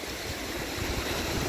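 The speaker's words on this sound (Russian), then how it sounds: "волна вроде небольшая идет, а прям как бахнул" Sea waves break on the shore with a dense, continuous wash of surf and spray, loud and close, with no voices.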